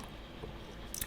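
Someone slurps tea right against the microphone, giving a faint wet sip followed by a brief sharper slurp over a quiet hiss.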